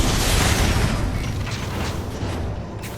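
A rocket explodes in Transformers: War for Cybertron, a heavy low boom that rumbles loudly and fades over a few seconds.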